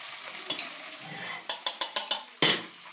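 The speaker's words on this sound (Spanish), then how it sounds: "Vamos a sacarlo, ponerlo en la cazuela." Fried rabbit pieces being lifted from hot oil and moved into a casserole, with a run of quick clinking, scraping utensil strokes over a steady background sizzle, ending in one louder clatter.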